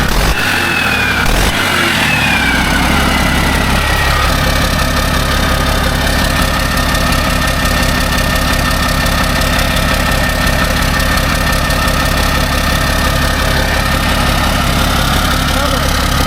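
A Mack truck diesel engine idles steadily and smoothly with a low continuous rumble, with a brief clatter near the start and one injector running a little smoky.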